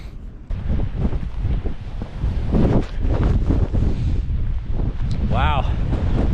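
Strong wind gusts roar across an exposed winter mountain peak in Snowdonia, a loud steady buffeting with a brief whistling tone near the end, and a voice speaking intermittently under the wind.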